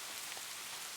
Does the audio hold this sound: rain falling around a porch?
yes